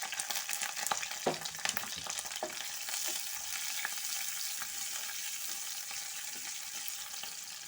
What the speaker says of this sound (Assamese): কেইটামান পিঁয়াজ কাটি লৈছিলোঁ, এটা পিঁয়াজ। এইখিনিও অকণমান ফ্ৰাই কৰি ল'ম।